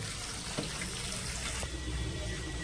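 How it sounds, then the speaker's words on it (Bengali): Water runs steadily from a tap as chopped leafy greens are rinsed, a continuous close splashing hiss with no pauses. "তো শাকটা একটুখানি ধুয়ে নিই ভালো করে"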